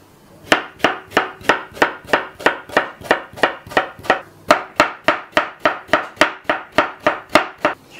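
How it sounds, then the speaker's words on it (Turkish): Onions and green peppers finely chopped with a knife on a board, a steady fast run of sharp, evenly spaced close knocks with one brief break. "Şimdi kullanacağımız sebzeleri ince ince doğrayalım."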